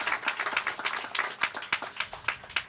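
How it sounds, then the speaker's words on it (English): Applause at a mayor's press conference for a ribbon cutting at Centennial Village, a small crowd clapping with distinct individual claps, near and moderately loud, brief and uneven. "please give a round of applause to Lucinda and David"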